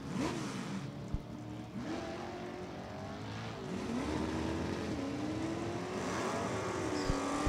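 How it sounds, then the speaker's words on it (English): A 1972 Chevrolet Nova with a 307 engine drag racing, its engine revving hard through repeated rising pulls and gear changes, loud and steady at a distance under a crowded track atmosphere. "72 Nova with the 307 Chevrolet."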